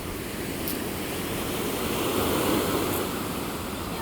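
Sea waves wash onto a Cancún beach with partly eroded sand, forming a steady, close, broadband surf roar that swells slightly in the middle and carries on without pause. No one speaks.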